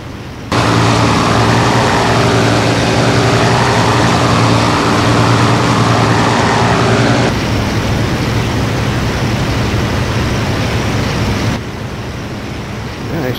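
Fighter plane engines in the IL-2 Sturmovik flight game roar as a loud, steady drone with a low harmonic hum, the pitch and intensity shifting partway through as a Messerschmitt chases bombers, with no talk.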